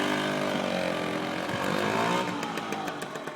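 A 1963 Lambretta Series 3 Li 125 scooter rides off, its small two-stroke engine revving steadily and close, the pitch rising and falling as it pulls away.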